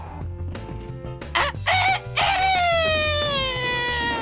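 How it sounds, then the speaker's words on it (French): A rooster crows at full voice in an animated French telling of the Bremen Town Musicians. A loud, drawn-out, falling crow rises out of busy cartoon music and fills the second half of the clip. "le coq se mit à chanter à plein poumon."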